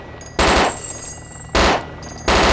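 Gunfire in the video game DayZ: three loud automatic bursts in quick succession, each a dense rattle of close shots separated by short pauses.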